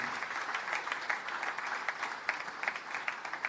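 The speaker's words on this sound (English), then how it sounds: "I think he deserves a big applause for that, ladies and gentlemen." A ceremonial crowd in Mauritius applauds at the unveiling of a Chhatrapati Shivaji Maharaj statue, producing sustained, crisp clapping from many hands that stays steady and moderately loud throughout, with no voices on top.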